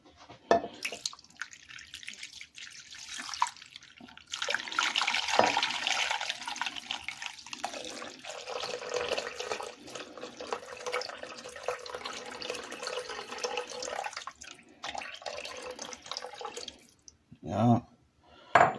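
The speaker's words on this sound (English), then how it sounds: "what I have right here is 4 cups of water" Water runs from a tap into a pot, filling it with 4 cups, a steady hissing splash that deepens as it fills, then stops, followed by a brief clink.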